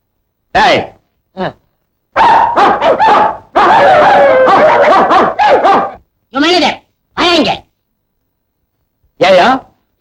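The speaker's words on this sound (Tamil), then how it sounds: "4-5 நாயை கட்டி வச்சு கொலைக்க விட்டு கஞ்சி ஊத்துறியா?" Several dogs chained at a mill barking and yelping in a comedy film scene, bursts of loud close barks with brief silent gaps between them.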